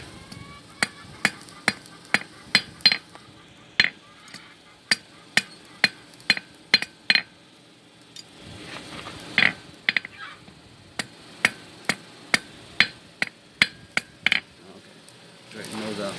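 A steel fork is hammered on an anvil in a blacksmith training shop, with sharp ringing strikes in irregular bursts of two or three, close and loud, separated by quieter pauses.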